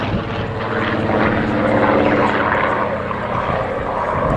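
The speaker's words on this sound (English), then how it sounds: "These World War II aircraft are preserved in flying condition as a living tribute to those who served their country." Second World War Lancaster bomber and Spitfire fighters roar past at an air display, a loud, steady drone of piston engines and propellers swelling slightly, with no talk.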